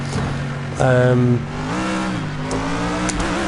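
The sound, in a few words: old F1 car engine revving, video game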